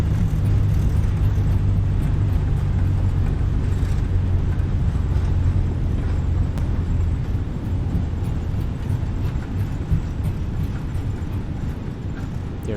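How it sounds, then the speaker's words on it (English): Airbus A320 (A32NX) in Microsoft Flight Simulator 2020 applying idle reverse thrust after touchdown on a stormy landing: a loud, steady low engine roar with broadband rushing noise that holds for the whole stretch, with no talk. "Let's take a reverse thrust."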